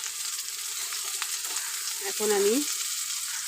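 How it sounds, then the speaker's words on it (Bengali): Water lily stems (shapla) fry in a pan with a steady crackling sizzle, close and continuous, while someone briefly speaks over it. "হয়ে এসছে আমার শাপলা ভাজা"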